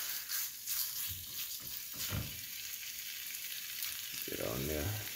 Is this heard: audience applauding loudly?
no